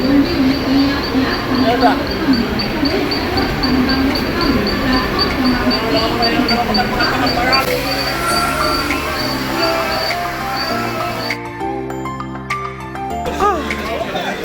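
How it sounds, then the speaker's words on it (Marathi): A train rumbles into busy Matheran station, with low mechanical drones and squeals rising over constant crowd chatter and nearby voices. "ट्रेन आली बघा ट्रेन ट्रेन आलेली आहे"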